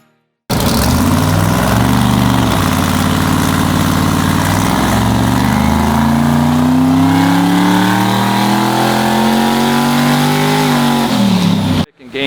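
A race car engine on a dynamometer pulls hard under heavy load, a loud steady roar whose pitch climbs gradually over about eleven seconds before cutting off abruptly.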